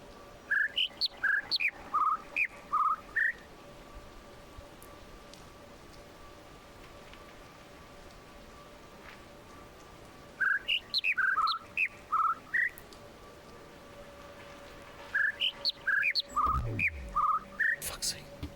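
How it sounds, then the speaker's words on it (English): Bird calls in the puzzle game The Witness, three separate bursts of quick high chirping trills spaced several seconds apart over a steady faint ambient hum. "I can't tell which bird I'm supposed to be listening to."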